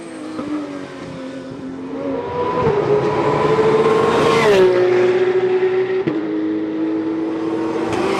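Race cars roaring past at the Paul Ricard circuit, a Porsche among the leaders, loud close engines rising in pitch as they accelerate, with a gear shift and sustained high revving.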